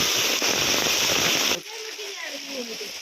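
Heavy rain falls in a steady dense hiss for about a second and a half, then drops away abruptly, leaving quieter dripping and faint patter.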